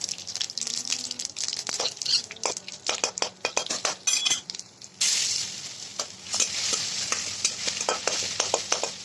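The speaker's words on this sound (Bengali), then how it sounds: "দেখো ফোড়ন দিলাম শুকনো লঙ্কা তেজপাতা গোটা জিরে আর দেবো আদা" Dried red chili, bay leaf, whole cumin and ginger sizzle in hot oil as a tempering for kalai dal with fish head, with close stirring and metal utensil clinks; the frying hiss swells loud and steady halfway through.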